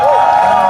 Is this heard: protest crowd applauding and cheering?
yes